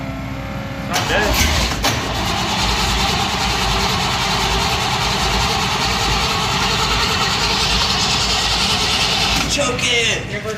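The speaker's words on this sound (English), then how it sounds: "I'll even describe it over the sound of the engine." Snowblower engine running steadily after a cold start in a snowstorm, a loud continuous droning roar throughout with people talking over it.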